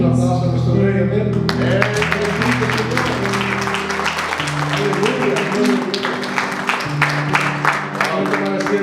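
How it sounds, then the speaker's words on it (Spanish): A church congregation breaks into applause after a sustained tonal passage, the clapping swelling into a steady, dense patter that lasts to the end. "Un aplauso a nuestro Rey."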